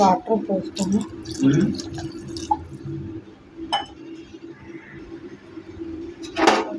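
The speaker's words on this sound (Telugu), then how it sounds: "వాటర్ పోసుకొని కలుపుకోవాలి." Water being poured into a simmering bottle gourd tamarind curry in a metal pan, with clinks and a brief splash early on, under a person talking.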